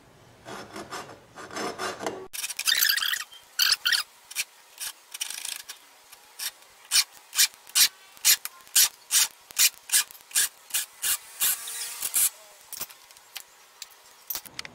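Rubber door seal on a Dacia Duster cut with a blade: a short rubbing at the start, then a series of quick rasping strokes, close and crisp, in an uneven rhythm.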